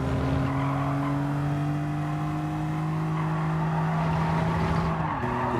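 A BMW Z4 in Gran Turismo 7 screeches its tires while sliding out of a corner, a loud sustained squeal over a steady engine drone that drops in pitch near the end.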